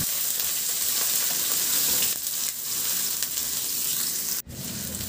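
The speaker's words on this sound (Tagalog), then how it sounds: "Magpainit na ako ng mantika sa kawali at igisa ko na rin yung bawang at saka yung luya." Garlic and ginger sauté in hot oil in a frying pan, giving a steady, close, loud sizzle that hisses on without pause, with a brief dip near the end.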